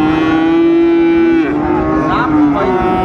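A Friesian cross bull moos at a cattle market in Dinajpur, giving one loud, close, drawn-out call that holds a steady pitch before breaking into wavering, falling tones.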